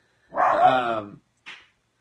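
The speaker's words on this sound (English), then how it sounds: "What's he barking at?" A puppy barks from upstairs, one drawn-out bark followed a moment later by a short, fainter yip, with silence around them.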